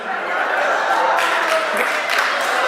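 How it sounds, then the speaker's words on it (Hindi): An audience at a Hindi comedy poetry recital claps along in a brief, continuous burst, with scattered chuckles and crowd noise mixed in. "ऊपर हाथ करके तालियां बजा"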